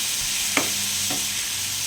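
A spoon stirs cumin and cinnamon dry-roasting in a pan, giving two brief scraping strokes over a steady, close hiss with no voices.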